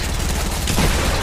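Gunfire in the video game Fortnite, a dense burst of shots blending into a loud continuous roar for a moment, close and alone.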